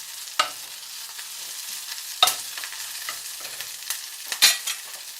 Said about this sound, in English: I'm now going to cook the tofu pieces in the frying pan